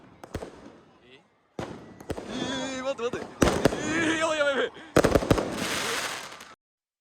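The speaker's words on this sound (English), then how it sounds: "Fireworks were scattering near the ground," Festival fireworks burst near the ground at night in sharp, crackling pops in several clusters, with brief silences between volleys and voices talking over them.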